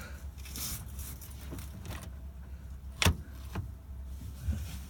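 A Firebird/Camaro shift linkage is worked through the gears, giving a few sharp mechanical clunks and clicks, one loud knock near the middle and softer ones after, over a low steady background rumble.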